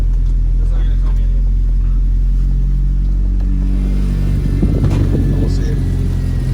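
Mitsubishi Evo 8 engine idling on a cold start after a fuel pump install, a loud, close, steady low rumble throughout with someone talking over it.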